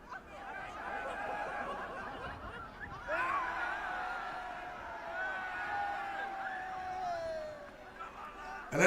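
A stadium crowd roars and jeers as security takes the ball from a pitch invader, a steady mass of voices that swells sharply around the midpoint and stays loud, with a last burst at the end.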